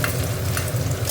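Nigella seeds and garlic crackle and sizzle in hot oil for a fish dish, a steady dense frying hiss with no pauses and no one talking.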